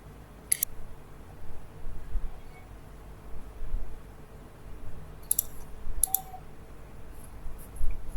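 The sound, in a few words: mouse clicks while texturing a 3D model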